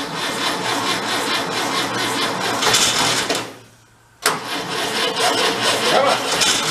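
An antique tractor engine runs as the throttle is opened, giving a dense, close, rough mechanical roar that drops away almost to nothing for a moment, then bursts back and carries on steadily.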